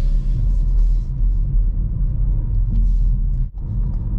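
A manual car's engine rumbles low and steady inside the cabin as it coasts and slows for a corner with the gas released and light braking, a loud, close drone with a brief dip near the end.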